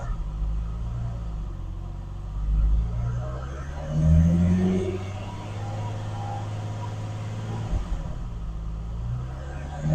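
A car engine idles with a low rumble, then rises in revs twice as the throttle is given and settles back, heard close up while a diagnostic scan tool monitors fuel trim.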